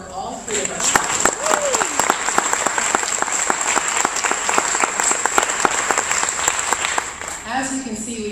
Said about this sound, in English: Let's have another round of applause for all three of us.